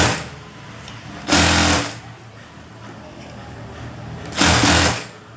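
A sewing machine stitches a canvas-backed blouse neck strip in two short, loud, steady runs, each under a second. A quieter room hum fills the space between them.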